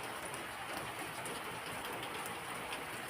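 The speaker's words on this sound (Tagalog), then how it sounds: "Umuulan. Nabutan na kami ng ulan." Rain falls steadily outdoors in the Philippines, producing a continuous, even hiss of drops on surfaces that is quiet and fairly distant and has no talking over it.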